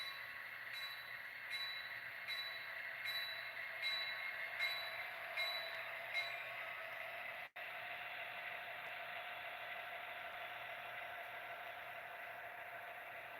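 A soundless DCC model locomotive, number 7107, runs laps on its track, making a quiet, steady rolling hum with regular light clicks from the rail joints.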